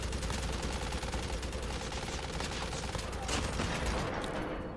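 Dense, fairly quiet gunfire in the battle-royale shooter Warzone, a continuous crackle of shots under a busy, noisy game mix.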